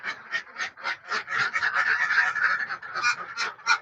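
Laying ducks in their pen give a busy run of loud, close quacks, one call overlapping the next in steady bursts with no pauses.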